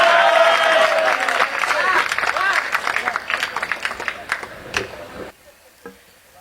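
An audience at a comedic poetry recital breaks into dense, sustained applause mixed with voices and laughter, which thins into scattered claps before cutting off abruptly near the end.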